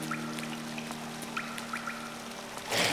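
Water pours steadily in a spa room inside the video game Hollow Knight, a soft continuous trickle with faint steady tones beneath and a louder splashy burst near the end.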